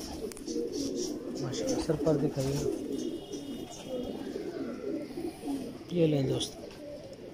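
Mistri pigeons cooing in soft, low, repeated bursts close by, mixed in with steady conversation between men.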